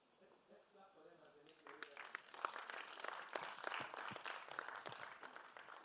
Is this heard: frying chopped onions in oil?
no